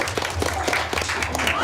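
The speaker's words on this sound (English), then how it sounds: "You may clap." A school quiz bowl audience claps briefly and fairly loudly, a short burst of scattered applause mixed with crowd murmur and voices.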